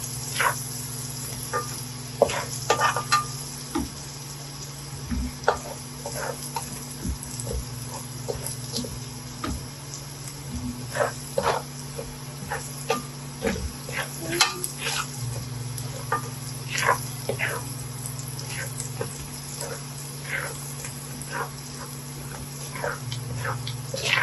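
Garlic and butter fry in a pan for honey garlic chicken, giving a steady soft sizzle with scattered crackles and pops throughout and a constant low hum underneath, with no one talking.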